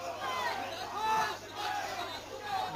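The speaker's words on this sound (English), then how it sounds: "Crowd going crazy, Rob. Crowd going crazy." A crowd at an MMA bout roars and shouts wildly, a loud swelling wall of excited voices rising and falling across a few seconds.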